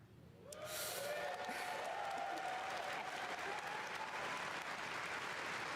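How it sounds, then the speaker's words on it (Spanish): A large crowd at BlizzCon 2023 breaks into steady applause that swells in quickly after a quiet start and holds, heard at a distance with a voice faintly audible over it. "Gente culiada le aplaude todo, weón, es horrible."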